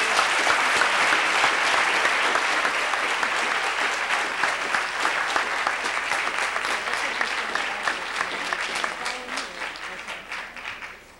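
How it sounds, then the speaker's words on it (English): Sustained applause from an audience at a US policy forum on Africa, a steady wash of many hands clapping that gradually tapers near the end. "And just one more round of applause for her."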